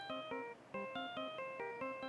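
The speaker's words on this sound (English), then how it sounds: "I know your phone has that ringtone." Phone ringtone from the Ace Attorney: Spirit of Justice video game, a bright electronic melody of repeating chiming notes in quick rhythmic phrases, loud and clear with no voices.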